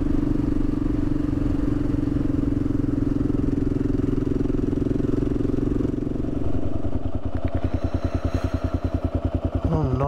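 A Kawasaki KLR650 dual-sport motorcycle engine drones steadily on a dirt trail ride, then the thumping single-cylinder beat grows more pulsed and uneven as the bike slows over rough ground, heard close up.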